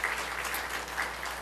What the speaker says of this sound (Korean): 우리 꼬맹이들 위해서 박수 한번 쳐주셨으면 좋겠습니다